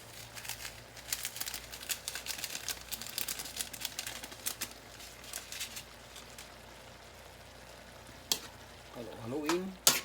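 Ground beef with bottle gourd (upo) and tomato frying and being stirred in a pan for a home dinner, with a steady crackling sizzle and repeated scraping stir strokes, close up, with a sharper clatter near the end.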